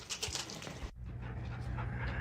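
A dog pants in quick, steady rhythmic breaths, close and fairly quiet, continuing throughout without speech.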